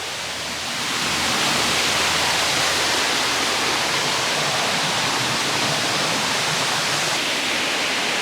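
The waterfall at Rock Island State Park in Tennessee produces a steady, dense roar of rushing water, loud and unbroken with no voices over it.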